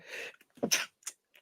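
A single close, sharp human sneeze with a breathy intake before it, followed by brief faint sounds in a quiet room.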